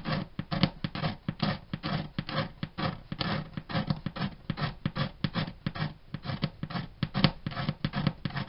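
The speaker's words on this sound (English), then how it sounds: "Maybe scrape it a little bit." Hand scraping of guitar finish at a Martin bridge footprint, a close, steady run of short rasping strokes repeating in quick rhythm without pause.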